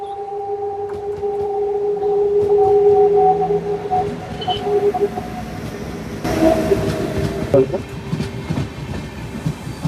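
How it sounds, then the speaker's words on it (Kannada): A delayed train rumbles into Kundapura station with a steady low drone, clattering wheels and a sustained tonal hum, growing louder before screeching and hissing nearby. "ಡಿಲೇ ಟ್ರೈನ್ ಇದೆ ಕಣಿ. ಬಂತು."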